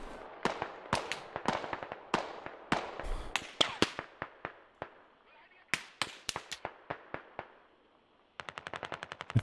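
Rapid bursts of machine gun fire from a military shooter game, sharp cracks in quick irregular volleys, then a tight fast rattle at the end, with faint voices underneath.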